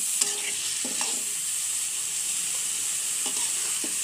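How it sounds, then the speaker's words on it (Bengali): Small cut pieces of taki fish fry in spices in a pan with a constant sizzle, and a few soft scrapes and clicks from a utensil stirring near the start and end. "কষানো শেষ, এখন ছোট করে কাটা টাকি মাছগুলো দিয়ে দেব।"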